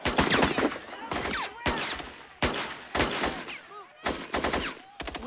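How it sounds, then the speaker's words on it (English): Sniper gunfire from a rooftop in a 1997 Joe Dante war film: loud, close shots crack in rapid repeated bursts with short pauses and echoing tails, and no talk over them. "Alina, you've seen the shooting. It is still going on."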